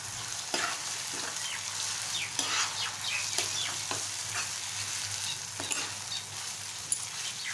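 Prawns frying in an onion and tomato masala, a steady sizzle broken by repeated scraping clinks of a spoon stirring the pan.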